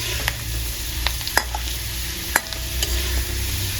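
Pirandai (veld grape) stir-fries in a pan, with a constant close sizzle and scattered sharp clicks and scrapes from stirring.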